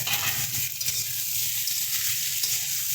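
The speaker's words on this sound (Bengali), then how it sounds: "এটাকে আমরা ভেজে নিচ্ছি বেগুনটাকে একটু হালকা নরম হওয়া অবধি ভেজে নেব" Eggplant and potato pieces fry together in a pan, the eggplant home-grown, giving a steady, close crackling sizzle that runs without pause for the whole stretch, with no talking.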